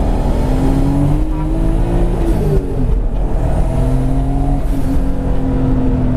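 A turbocharged project car launches hard in first gear, engine roaring loud and close as the revs climb, tires spinning through the pull with a steady, continuous drone.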